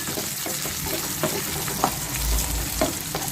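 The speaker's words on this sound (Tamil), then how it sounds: "நம்ம வெங்காயத்தை நல்லா வதக்கிக்கலாம்" Small shallots sauté in oil for pumpkin sambar, a steady close sizzle with soft scraping stirs and light clicks of a spoon against the pan.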